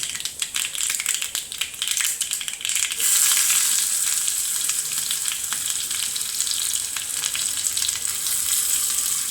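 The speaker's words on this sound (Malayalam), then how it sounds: "കടുക് പൊട്ടി തുടങ്ങിയിട്ടുണ്ട്. നമുക്ക് ചുമന്നുള്ളി ഇട്ട് കൊടുക്കാം." Mustard seeds popping and shallots frying in hot oil for a crab curry, a dense steady sizzle that swells louder after a few seconds and carries on with crackling spatters, no voices.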